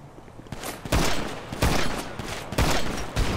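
Bursts of gunfire from GTA V strike a fence, landing as several loud, sharp volleys spaced roughly every second with a brief ringing tail after each.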